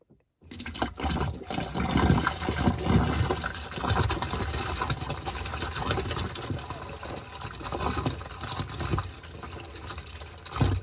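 Liquid is poured into a water softener's brine well, a continuous splashing, gurgling pour at close range that starts abruptly and runs steadily with slight surges, without pauses.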